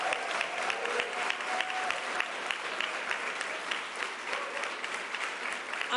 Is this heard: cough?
no